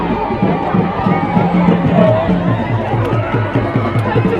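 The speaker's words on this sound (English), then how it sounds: "Look at how the students are cheering him up." A crowd of students at a school event cheers and chatters in a dense, continuous din close by, with voices and shouts blending into steady babble.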